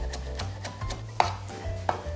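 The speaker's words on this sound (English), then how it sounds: "Chop 1 stalk of scallion for garnish." A knife chops one scallion stalk on a cutting board: a quick series of close, light taps with two sharper knocks.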